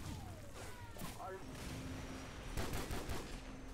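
A sniper rifle is hip-fired in Modern Warfare, a few sharp gunshots and bursts of game combat noise under someone talking over the action.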